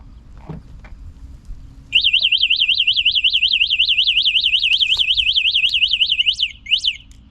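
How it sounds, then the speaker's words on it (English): After a few faint knocks, a mobility scooter's anti-theft alarm sounds nearby, warbling rapidly and steadily for several seconds before cutting out in a few short bursts. "if someone attempts to move the scooter like I'm going to do now, you'll see that the alarm is going to go off."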